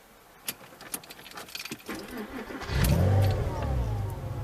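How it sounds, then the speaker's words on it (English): Keys jingle and click near the ignition, then a Porsche Boxster 986 engine cranks and starts, settling into a steady low running rumble. "We're going to start the engine."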